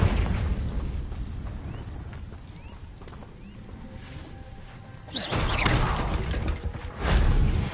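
A Confringo blasting spell erupts in the video game Hogwarts Legacy, one loud, rumbling blast breaking a quieter stretch, followed near the end by a second heavy burst.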